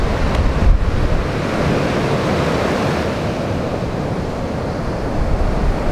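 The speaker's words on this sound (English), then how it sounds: "It's like firing little waves." Ocean waves break steadily at a North Shore beach on a glassy, offshore day, a continuous loud surf wash with some wind rumble on the microphone and no voices.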